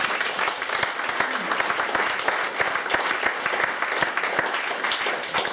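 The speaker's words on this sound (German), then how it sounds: "Da dürft ihr gerne klatschen." Dense, steady audience applause from a large crowd at an annual general meeting, filling the whole stretch with continuous bright clapping and no voices on top.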